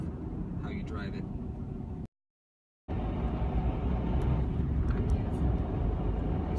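A 1996 Honda Civic LX climbs a hill, its engine droning steadily from inside the cabin; the sound cuts out briefly, then resumes a little louder as the car pulls on.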